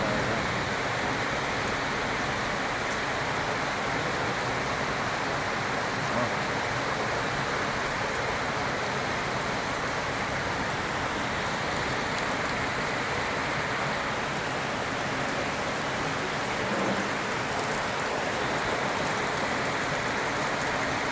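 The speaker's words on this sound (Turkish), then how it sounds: "Bayağı hızlandı yağmur. Bayağı hızlı yağıyor." Heavy rain pours down steadily and loudly in a dense, unbroken hiss for the whole stretch, with no voices over it.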